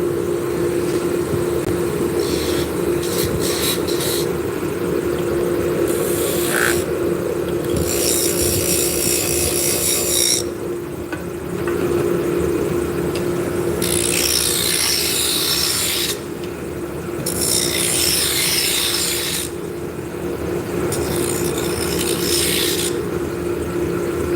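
Rasping and scraping as a slight taper is shaped on a wooden drop spindle turning on a lathe, with a steady mechanical hum underneath and repeated bursts of gritty, hissing cutting sound, close and fairly loud.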